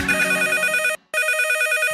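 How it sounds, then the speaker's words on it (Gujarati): A telephone rings in a radio comedy sketch: two bursts of a bright electronic bell tone, close and loud, split by a short silent gap, with no talk over them. "ફોન આવ્યો કાકા"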